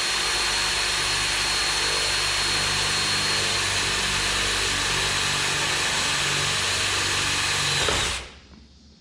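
Power drill boring a hole through vehicle bodywork for a solar kit install on an overland expedition build; a loud, steady high whine for about eight seconds that stops abruptly, leaving faint background noise.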